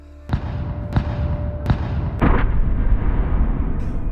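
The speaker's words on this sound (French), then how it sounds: "J'entendais les canons qui nous bombardaient sur la côte." Coastal artillery guns firing during the D-Day landings of 6 June, four sharp booms at roughly even intervals followed by a heavier rumbling blast that lingers, loud and echoing with no voices.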